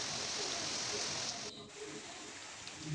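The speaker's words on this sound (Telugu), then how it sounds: "పెద్ద పెద్ద ఉరుములతోటి మెరుపులతోటి చాలా పెద్ద వర్షం వచ్చేసింది" Heavy monsoon rain pours steadily, a dense, even hiss of drops on surfaces that briefly dips and then resumes. No thunder stands out.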